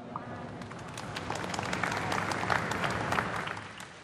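Audience applause at a Thai Muay Thai boxing event for referee Ajarn Pom, a steady dense clatter of many hands filling the hall, building slightly before easing off.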